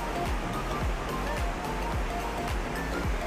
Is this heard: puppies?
no